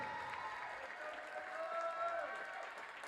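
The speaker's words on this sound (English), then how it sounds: "Ladies and gentlemen, one more round of applause for Taylor Adams" Crowd in a college volleyball gym (Carson-Newman vs. Emory & Henry) applauds a senior player, a quiet, distant wash of clapping with a voice and tonal sounds over it.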